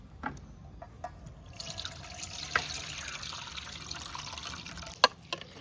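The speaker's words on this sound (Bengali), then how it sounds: "চাল আর ডাল একসাথে ধুয়ে নিচ্ছি।" Rice and lentils for khichuri are rinsed together in water, with steady running and splashing water and a few sharp clinks near the end.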